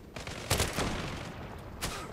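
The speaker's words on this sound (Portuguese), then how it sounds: "só testando a P90 no Zula" P90 submachine gun firing in the online shooter Zula, a few rapid bursts of automatic gunfire at moderate loudness with broadband crack, no voices.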